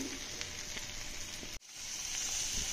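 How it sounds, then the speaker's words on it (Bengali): Onions sizzle steadily in hot oil as they fry to light brown for a chicken stew, a close, even hiss that drops out for an instant and then resumes. "পেঁয়াজটা খুব বেশি লাল করব না, হালকা ব্রাউন ভেজে নিয়ে"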